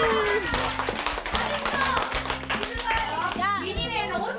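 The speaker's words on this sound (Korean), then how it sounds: "박수." Clapping breaks out on a Korean family variety show as a winning team is announced in a children's contest. It rattles along steadily under a bright music bed, with children's voices mixed in.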